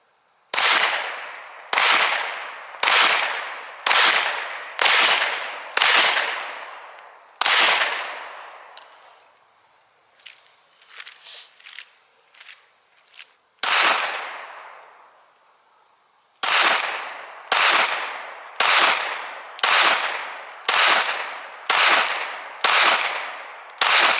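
A Glock 48 MOS pistol fires outdoors in sharp, loud, evenly spaced shots, first a run of six, then a pause filled with faint clinks and handling noise, then another single shot and a steady string of seven more.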